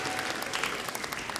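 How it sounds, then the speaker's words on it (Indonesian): Brief burst of applause from a studio congregation at an Indonesian religious TV quiz, a loud dense clatter of many hands with a faint crowd murmur beneath. "Tepuk tangannya mana?"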